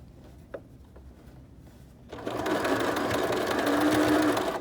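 A sewing machine stitching a fabric face mask starts after a couple of quiet seconds with a small click, then runs in a steady, close, continuous whir to the end.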